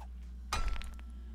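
A single sharp crash with glassy clinks as zombies smash into a house in the video game 7 Days to Die, a brief impact heard faintly from a distance over a low steady hum.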